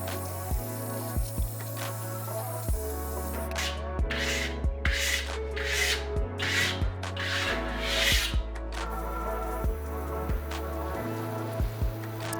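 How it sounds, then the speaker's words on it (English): A trowel rubs and burnishes matte-finish Venetian plaster on a board in a series of close, raspy strokes midway through, with a steady tonal background underneath. "you can definitely go back and burnish it some more"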